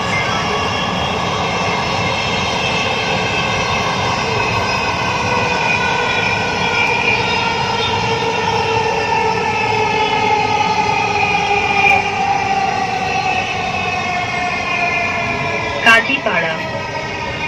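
Dhaka metro rail train running between stations, a loud continuous electric whine and rumble heard from inside the carriage, steady throughout with a brief bump near the end.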